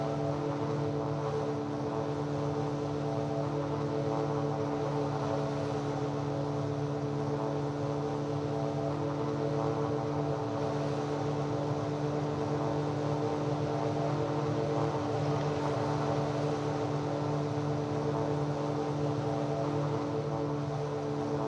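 A WestJet airliner passing overhead above the Phoenix metropolitan area, heard as a steady, droning engine roar with a strong hum that holds constant and fairly loud throughout, with no speech.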